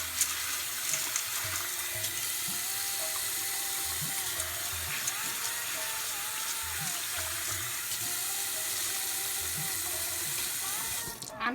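Tap water runs steadily over yellow split peas being rinsed in a sink, a continuous close splashing flow with faint rattles of the peas throughout.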